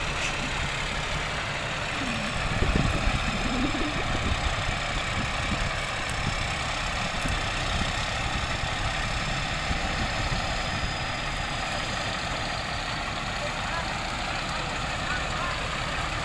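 Six-wheel truck idling beside a rice harvester in a field, a continuous mid-to-low engine drone that stays steady and fairly loud for the whole stretch, with faint voices underneath.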